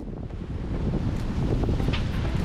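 Strong, steady wind roars across the microphone aboard a sailboat running at six to seven knots through a rough sea in a 25-knot breeze, with wave wash blended into the continuous loud rush.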